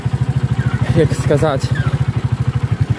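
A tractor engine labours in second gear on a muddy off-road track, its steady, rapid, close thudding pulses running throughout while someone talks over it.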